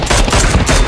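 Dense, continuous gunfire from a squad fight in a battle royale video game, loud and overlapping in a short burst.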